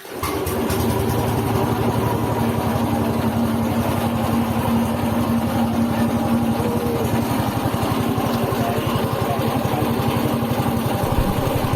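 A soybean grinding machine runs steadily for making soy milk, a loud continuous motor drone with a fast rhythmic pulse that starts right at the beginning and holds for the whole stretch, with no talk over it.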